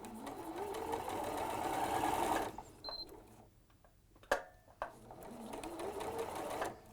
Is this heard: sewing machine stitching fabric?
yes